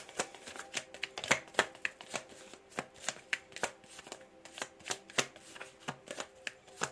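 Cards shuffled during a tarot-style card reading, a quiet, close run of crisp riffling bursts and soft slaps repeating in an uneven rhythm for several seconds, with no talking.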